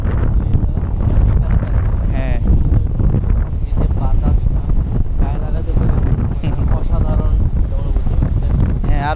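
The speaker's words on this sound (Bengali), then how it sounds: "প্রচুর পরিমাণ বাতাস আর সামনে সমুদ্রের গর্জন শোনা যাচ্ছে" Strong gusty wind buffeting the microphone on Inani beach, a loud continuous rushing roar with the sea's surf churning beneath it, steady for the whole stretch.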